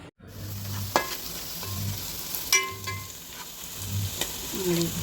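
Turmeric and red chili powder being stirred into a crab curry in a hot pan, with a steady sizzle and a few sharp spoon scrapes and clinks nearby, no talk.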